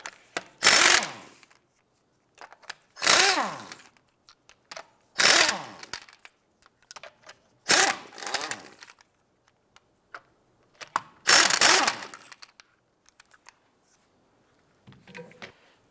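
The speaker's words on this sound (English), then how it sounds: "18mm socket. Let's go ahead and remove the lug nuts." An impact wrench with an 18mm socket zips lug nuts off the rear wheel of a 2006-2011 Cadillac DTS, five or six loud, short whirring bursts separated by quiet gaps, close by.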